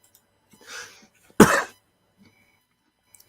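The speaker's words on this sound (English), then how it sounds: "I coughed." A single sharp cough rings out close by after a short breathy sound, followed by near silence with a couple of faint clicks.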